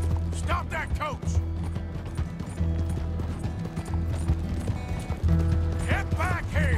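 Hooves clip-clop with rattling wheels and creaking mechanisms of a horse-drawn coach in Red Dead Redemption 2, and a voice shouts over the steady rolling clatter.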